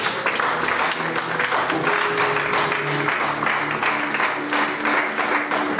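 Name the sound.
church congregation applauding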